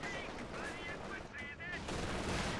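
Gunfire and explosions rumble through a Company of Heroes 2 battle, with a StuG assault gun firing its main gun at an AT position amid dense, continuous combat noise and a voice talking over it.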